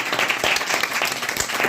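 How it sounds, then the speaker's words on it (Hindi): A crowd claps steadily in a dense, continuous burst of applause, with no voices standing out. "तालियां"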